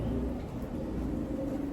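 Low, soft pigeon coos murmur continuously inside a loft, overlapping into a steady burbling hum.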